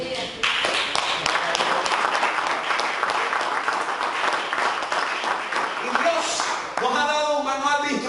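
A church congregation bursts into dense, sustained applause for several seconds, loud and close, before it fades and a voice speaks.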